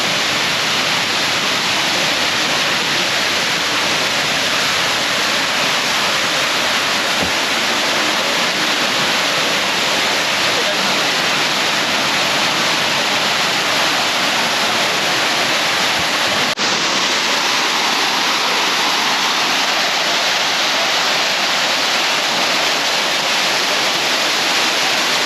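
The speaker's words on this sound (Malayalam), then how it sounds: "നമ്മളങ്ങനെ വെള്ളച്ചാട്ടം എത്തി." The Thirumoorthy (Panchalinga) waterfall beside Thirumoorthy Temple rushes in a dense, steady roar of falling water that stays loud and unbroken throughout, with no voices over it.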